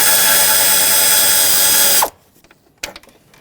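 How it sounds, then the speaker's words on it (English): A socket tool removes T30 bolts from a Nissan Pathfinder radiator fan assembly: a loud, steady mechanical whir for about two seconds stops abruptly, then a few faint clicks and a sharp ratcheting burst follow. "Put your socket in here, make sure it's seated well, and remove these bolts."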